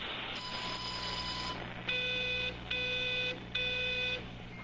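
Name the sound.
telephone ringing in the video game Everybody's Gone to the Rapture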